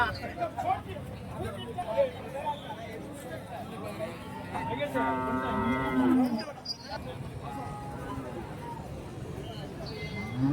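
Cattle at a livestock market in Karimangalam, Dharmapuri district, with a long drawn-out moo rising in the middle and shorter lowing around it, heard close over a busy babble of voices and people talking.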